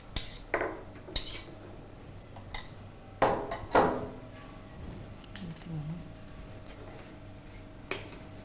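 A metal ladle clinks and scrapes against a cooking pot in a series of sharp knocks and stirring rattles, some close and loud, with quiet talk between them.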